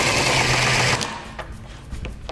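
Power driver spinning yellow screws into an Andersen A-Series patio door frame, whirring steadily for about a second up close, then stopping, followed by faint handling knocks.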